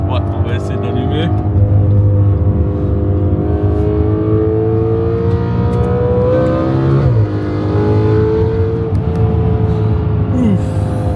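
Audi RS5 B8.5 with a 4.2-litre V8 starts up and settles into a deep, loud idle, then blips its revs, heard up close with voices talking over it.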